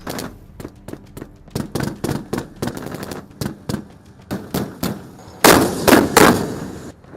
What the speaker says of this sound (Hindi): 1500 फीट की ऊंचाई पर टैंक से फायरिंग दुनिया का आश्चर्य नहीं तो उससे कम भी नहीं है